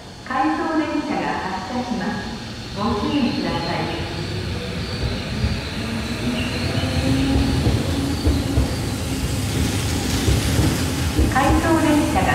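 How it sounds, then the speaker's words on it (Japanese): An out-of-service train pulls away from Kita-Koshigaya station on the Tobu Skytree Line, its steady rumble and wheel noise rising, with some wheel squeal. Station announcements repeat over the train throughout. "回送電車が発車します。"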